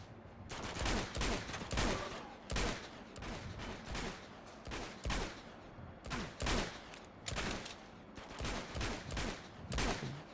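Gunfire in Uncharted 2: Among Thieves, repeated bursts of rapid shots in uneven clusters, fairly faint overall, with sporadic talk.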